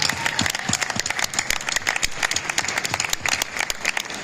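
Audience at a horror convention celebrity panel clapping for the sponsors, a dense, sustained round of applause filling the room throughout.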